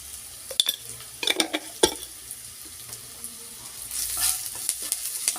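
Cauliflower frying with turmeric and red chili powder is turned over with a spoon, sharp scraping clinks over a low sizzle, then a louder burst of hissing near the end; nobody speaks.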